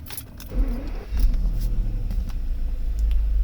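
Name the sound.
Mercedes V12 car engine starting with keys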